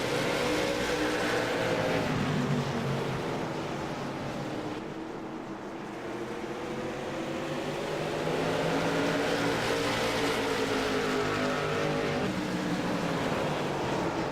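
A pack of race cars roars past on a track as a continuous, loud engine drone with rising and falling pitches as several cars pass close together.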